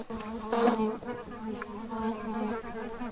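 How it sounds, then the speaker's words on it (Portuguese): A sand wasp returning to its burrow in soft soil buzzes with a steady droning hum that swells loudest early on and then holds, close and with no talk. "uma vespa das areias regressa à sua toca"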